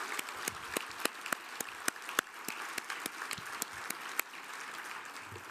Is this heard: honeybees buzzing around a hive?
no